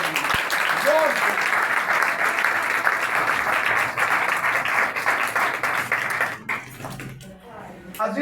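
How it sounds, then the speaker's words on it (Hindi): A church congregation claps loudly for Jesus Christ in sustained, dense applause lasting several seconds, then thinning out as a voice begins speaking near the end. "यीशु मसीह के लिए एक बार फिर जोर से ताली बजाएं, जोर से।"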